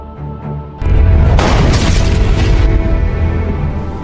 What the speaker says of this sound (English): However, due to the successive shots fired by Victoria's men, Valentina had to be shot.